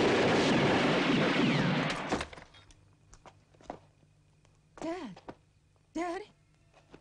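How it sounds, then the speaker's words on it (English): Film explosion as a warehouse goes up, a loud rumbling blast lasting about two seconds before dropping away, followed by quieter film sounds and voices. "And then the glorious explosion, the warehouse goes up"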